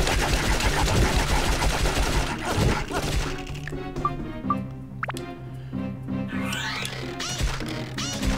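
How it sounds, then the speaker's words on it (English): Guns firing at a golem in the video game Dark Cloud: dense, rapid bursts of shots and impacts at the start that thin into scattered pops and dripping, splashy game effects over a game music bed. "This is what I have guns for."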